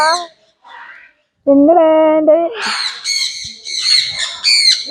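Caged exotic birds at a bird park squawk and screech up close in harsh, repeated calls, several bursts following one another with short pauses between them.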